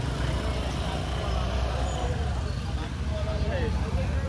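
Road traffic passes in a village, with a continuous low engine rumble and roadway noise from cars and heavier vehicles close by. Voices talk over it at times.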